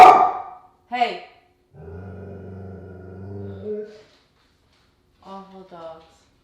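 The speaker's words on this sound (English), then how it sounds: "Awful dogs." Dogs bark sharply in short bursts, then a long low growl, followed by a couple more quick barks, fairly close with quiet gaps between.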